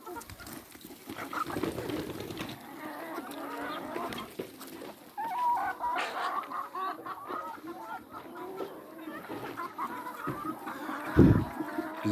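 Chickens cluck and squawk in a free-range chicken farm flock, with goose-like honks mixed in. The calls form a busy, continuous chorus at moderate distance, with one louder call near the end.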